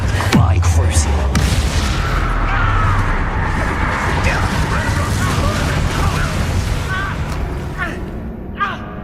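A Bombarda spell blasts in Hogwarts Legacy, a loud booming burst followed by crashing, rumbling debris and mechanical clatter, with game voices speaking over the fading rumble.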